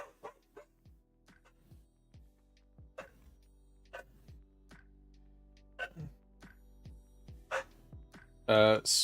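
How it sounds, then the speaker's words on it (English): A pet dog barks repeatedly indoors at a moderate distance, a series of short separate barks spread across the clip, with one louder sound at the end. "Sorry about my dog barking."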